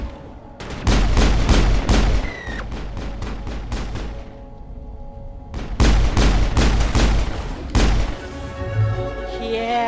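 Gunfire from a shooter in the video game Mass Effect, two long loud bursts of rapid automatic shots separated by a short quiet pause, close and forceful.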